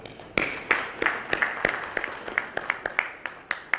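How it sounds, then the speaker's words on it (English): An audience at a technology talk claps, sharp separate hand claps in a quick, uneven patter that stays fairly loud and even throughout. "I would like to give you a big applause and a standing ovation"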